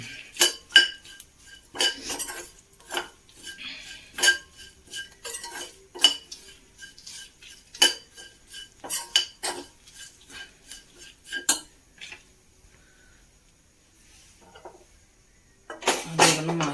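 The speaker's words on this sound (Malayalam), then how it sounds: "ഗ്യാസ് ഓഫ് ചെയ്തു ഒരു മിനിറ്റ് ഒന്ന് ഇളക്കി കൊടുക്കാം" Spoon scraping and clinking through a roasted mixture in a hot pan with the gas switched off for prawn and ridge gourd curry, in a steady run of sharp metallic taps, then a pause before louder handling at the end.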